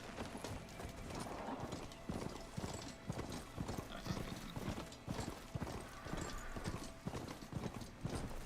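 Steady clip-clop of a mount's hooves at a trotting gait in Horizon Forbidden West, rhythmic and continuous throughout, fairly quiet with faint background game sounds.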